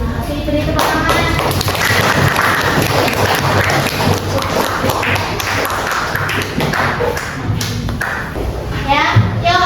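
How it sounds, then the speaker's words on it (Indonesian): Schoolchildren in a middle-school classroom clap together, a loud, continuous patter of hand claps and taps with children's voices chattering throughout. "Beri tepuk tangan."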